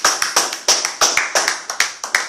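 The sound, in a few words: congregation clapping to acclaim Jesus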